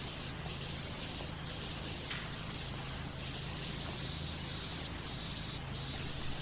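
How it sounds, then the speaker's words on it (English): Steady loud hiss of a pressure washer spraying in the video game Powerwash Simulator, a continuous broadband gush running without pause, with brief brighter bursts layered over it. "I'm gonna spray for less than 2 seconds"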